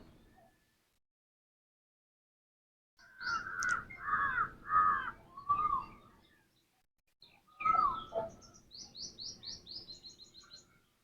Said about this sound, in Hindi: देखिए सुबह सुबह कोयल की बोली,